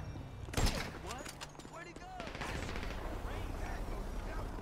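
Sniper gunfire in the GTA V video game: one sharp, loud shot cracks out early, followed by scattered game noise with voices talking over it.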